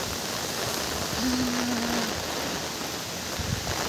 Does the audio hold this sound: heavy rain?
yes